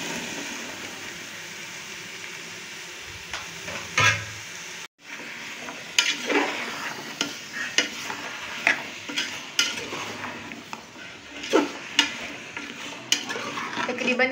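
Chunks of halwa kaddu pumpkin drop into a pot of cooking gosht, followed by a sharp sizzle and repeated scraping stirs of a spoon against the metal pot, close and rhythmic.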